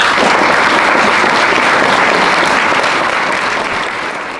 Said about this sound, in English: Let's give them another clap.